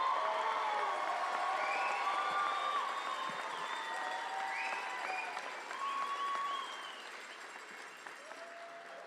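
Sustained applause and cheering from a high school graduation crowd honoring the class of 2022, with whoops and shouted voices riding over steady clapping that slowly fades in loudness.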